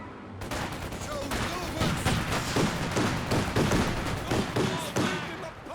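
PTRS anti-tank rifle shots striking a flak gun in Company of Heroes 2, dense rapid gunfire and impacts crackling continuously in a busy battle mix after a brief quiet start.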